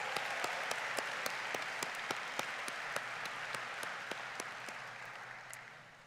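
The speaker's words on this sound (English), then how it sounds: "Let's give them both another big round of applause" Sustained audience applause at a Georgia College & State University College of Education commencement ceremony, a dense even roar of many hands with a few sharper claps, tapering off at the end.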